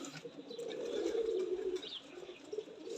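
Young teddy breeder pigeon pairs coo softly and somewhat distantly, with low, rolling calls in a quiet setting and a faint chirp or two.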